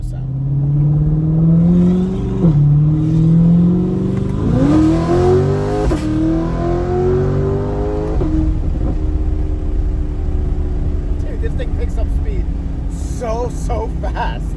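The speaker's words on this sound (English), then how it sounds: "that sounds so good. That exhaust opens up so nicely." A tuned C8 Corvette with a Bad News Racing tune and HPtuners ECU unlock accelerates hard with its exhaust open: a loud, continuous engine roar climbs in pitch, drops at a gear change, then climbs again.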